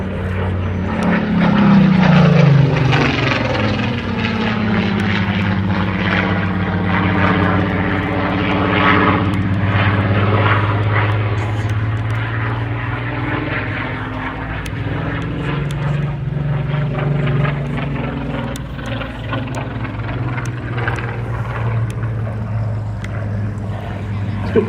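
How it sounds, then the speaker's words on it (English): A Supermarine Spitfire Mk 14 flies past at a D-Day anniversary airshow at Duxford, its piston engine roaring loud and steady, with a clear rising-then-falling pitch sweep early on as it passes close, then a sustained drone as it moves away. "But now, in comes the Spitfire 40."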